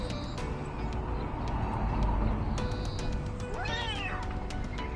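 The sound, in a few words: cat meowing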